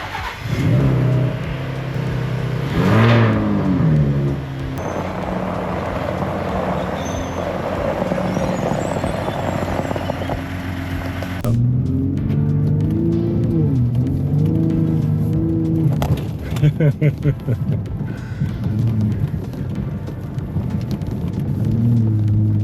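A Ford Raptor truck driven through snow gives a deep, continuous engine rumble that rises and falls as it revs, with a brief sharper surge partway through and a heavy low drone throughout.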